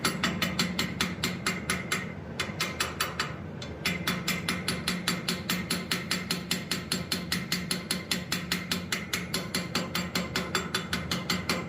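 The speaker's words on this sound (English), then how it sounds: "seat this whole thing. And smooth it out a little with the ball peen" Ball peen hammer striking and smoothing metal seated on a punch during blacksmithing, a rapid steady train of sharp metallic blows with a brief pause near two seconds, close and loud, no talk.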